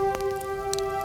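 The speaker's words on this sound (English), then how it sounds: "Raindrops tapped softly against Daniel's cottage windows. Tap, tap, tap." Gentle rain tapping on cottage windows: a few soft, scattered taps over a steady, calm musical drone, quiet and close.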